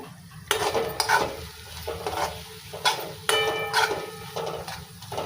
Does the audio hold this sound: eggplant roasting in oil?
yes